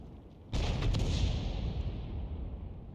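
A tank cannon fires in a tank video game, aimed at a Leopard 1: one sudden loud, deep boom that lingers as a long rumbling decay, with no voices.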